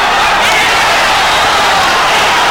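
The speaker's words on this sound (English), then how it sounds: "A tremendous cheer goes up in the crowd" Crowd at a boxing match cheering, a dense loud roar of many voices swelling steadily throughout.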